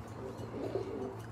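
Birmingham Roller pigeons coo softly, a low gentle murmur lasting about a second against a quiet background.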